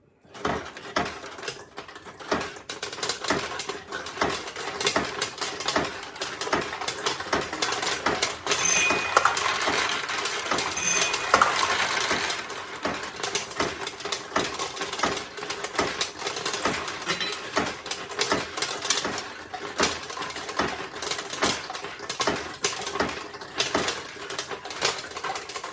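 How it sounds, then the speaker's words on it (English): Steel balls rattle and clatter through a 1972 Nishijin Model A pachinko machine, a dense, continuous run of rapid metallic ticks and pings close by, growing busier in the middle and continuing throughout with no voices. "So as a player, you would pick this machine and drop some balls into it."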